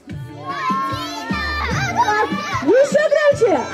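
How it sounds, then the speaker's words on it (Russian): A group of children shout their own names all at once, loud and overlapping, a burst of crowded young voices at a Children's Day event that holds for several seconds. "Тогда на счет три очень громко кричим каждый свое имя."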